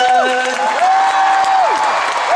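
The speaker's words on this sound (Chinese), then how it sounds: "也给我们全场的所有的老师、乐手老师热情的掌声加尖叫声" A concert crowd at a memorial music show claps and cheers loudly and continuously, the dense applause running under sustained singing or instrumental tones.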